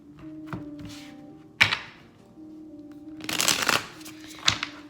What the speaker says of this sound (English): let's pull our tarot cards and see what's happening with you guys